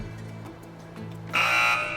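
A quiz-show buzzer during a Ramzan special Islamic quiz rings out loud and steady after a quiet stretch with low hum, holding for about half a second.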